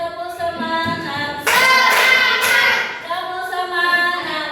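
A student group does spirit clapping, hands striking in a chanted rhythm, loud and close, mixed in with voices calling out the count together.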